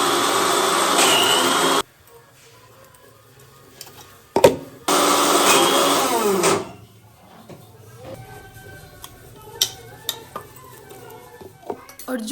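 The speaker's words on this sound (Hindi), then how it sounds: "अच्छे से कूट कर मिक्सी में उनको पीस लिया है" Two loud bursts of an electric mixer grinder whirring and grinding pounded dried dates, separated by a short pause, followed by quieter clinks and handling noises.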